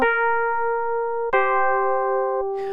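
A DX7-style FM synth piano patch, with one oscillator modulating another, plays two bell-like keyed notes. Each has a sharp attack and a clean, ringing sustain. The second note enters partway through, and a brief noisy burst follows at the end.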